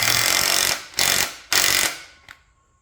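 A wrench cranks down flange nuts while a McCormick Deering No. 9 horse-drawn mower is rebuilt, giving loud close bursts of rapid mechanical rattling in three long runs and a short final click before quiet.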